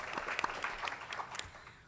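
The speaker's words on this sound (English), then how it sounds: "Let's give a round of applause to Burke and welcome him to the panel." A conference audience applauds a panelist joining a breakout session panel: a short, soft patter of scattered clapping, somewhat distant and lasting about two seconds.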